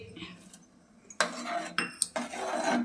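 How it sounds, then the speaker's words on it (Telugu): A spoon clinks and scrapes against a bowl while grated coconut is mixed into payasam, a few sharp metallic taps followed by a steady stirring rustle, close and alone. "నీట్గా కలపాలి"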